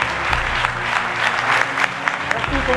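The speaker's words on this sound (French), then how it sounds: "Je voudrais qu'on applaudisse très fort Big Ben" A café audience applauds steadily, the clapping dense and fairly close, with a voice talking over it throughout.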